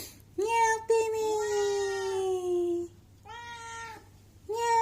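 A cat named Timmy gives two long, loud, close meows, each wavering slightly in pitch, and starts a third as the sound ends.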